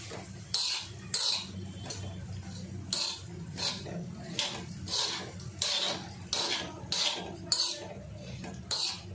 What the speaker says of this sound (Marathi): जरा हे तांदूळ परतून घेते जास्त काय आपल्याला लालसर वगैरे करायचे नाही आहे फक्त थोडे तुपामध्ये ते व्यवस्थित मिक्स झाले पाहिजे